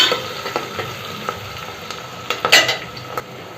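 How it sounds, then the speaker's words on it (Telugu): Onions fry and sizzle in a pan with a constant hiss, punctuated by scattered clinks and scrapes of a spoon stirring against the metal. "ఒక టూ మినిట్స్ ఆనియన్స్ వేగనిద్దాము"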